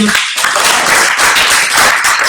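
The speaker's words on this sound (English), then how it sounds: "To all of you, Hillary, Mr. Villanueva, thank you all the panelists, round of applause" Audience applause for panelists at an American Bar Association annual meeting session, a dense, steady wash of clapping filling the room for about two seconds with no talk over it.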